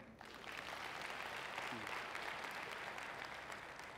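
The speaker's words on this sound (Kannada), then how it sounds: "ಒಂದು ಚಪ್ಪಾಳೆ ಇರಲಮ್ಮ" An audience at a live comedy show breaks into applause, a dense wash of clapping that swells after a brief start and holds steady until the end.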